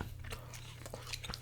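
Crunchy bites and chewing of shrimp close to the mic, a few quiet crisp crunches over a low background hum.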